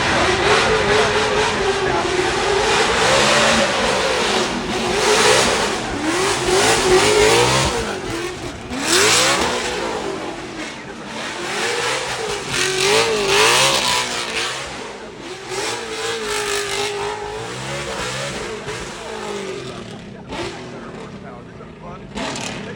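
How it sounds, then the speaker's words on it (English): A Pagani Huayra R hypercar howls up the Goodwood Festival of Speed hill climb, its engine rising and falling through loud revs across the run with crowd and commentary noise blended underneath. "And what a howl from the start line there. That's the Pagani Huayra R."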